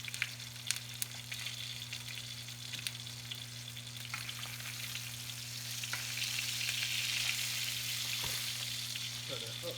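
Green beans and garlic fry in butter in a pan, giving a quiet, steady sizzle with a few small pops and crackles that grows slightly fuller toward the end.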